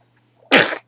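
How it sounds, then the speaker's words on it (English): A baby lets out a single sharp sneeze, close and loud, after a moment of near silence. "Oh, sneezes. Bless you."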